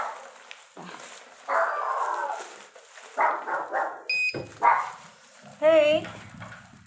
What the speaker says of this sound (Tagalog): Tatawal yung aso.